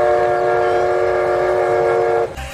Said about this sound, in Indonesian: Di sini ada kereta api Thomas yang membawa minyak dan juga